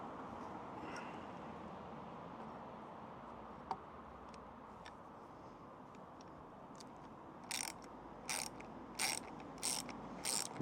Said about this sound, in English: we're going near a 10mm socket, also a 10mm spanner as well